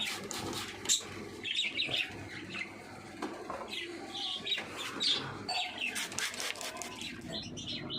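Pet lovebirds chirp and tweet while eating greens, a busy mix of close, sharp calls and brief wing flutters, with faint clucking in the background.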